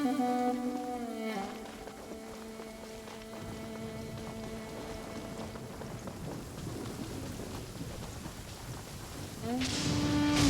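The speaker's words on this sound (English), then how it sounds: "Compared to the storms I've encountered out at sea, this is really quite tame." A thunderstorm with rain in the video game Genshin Impact hisses steadily and softly under sustained music tones, with no speech.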